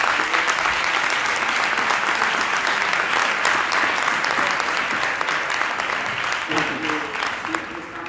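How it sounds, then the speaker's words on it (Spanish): A conference audience bursts into sustained applause, a dense, even roar of clapping that carries on throughout, with a few voices faintly audible near the end. "yo creo que podríamos darle un aplauso"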